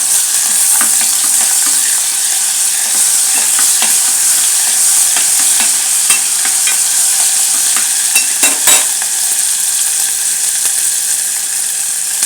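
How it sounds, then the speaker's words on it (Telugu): Ginger garlic paste fries for gongura chicken with a steady, bright sizzle throughout, broken by repeated scraping and clicking stirs of a spoon against the pan. "అల్లం వెల్లుల్లి పేస్ట్ వేసాను"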